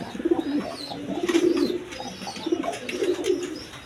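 Big-sized Lahori pigeons, a male and female pair, give low rolling coos in several close, fairly loud bursts, with faint rustling between them.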